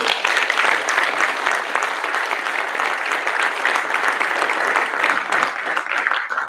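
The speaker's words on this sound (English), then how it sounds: "Please give them a round of applause." A crowd applauding at an Australia Day 2022 event, steady dense clapping that stays loud and close for the whole stretch.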